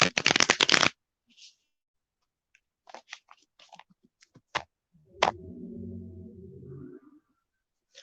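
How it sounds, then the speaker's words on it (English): Cards get a poker-style riffle shuffle during a casual tarot reading, a quick loud flutter of cards up close, followed by scattered soft taps and clicks and a low murmur. "I'm going to go ahead and poker shuffle these 3 times."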